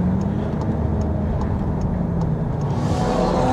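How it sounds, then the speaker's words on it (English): A Stage 3 Golf R engine in limp mode on a track, droning steadily and loud throughout with faint rhythmic ticking over the top, no one speaking. "First issue with the car, limp mode. I'm pretty sure it's coil packs, because it's where it stutters high end."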